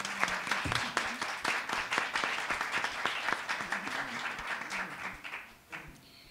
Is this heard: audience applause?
yes